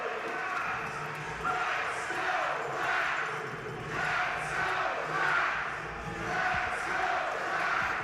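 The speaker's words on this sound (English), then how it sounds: "This is a loud crowd." A loud indoor arena crowd at a professional indoor soccer playoff game produces a continuous rumbling roar with swelling waves of shouts and cheers, and an announcer's voice is faintly mixed in underneath.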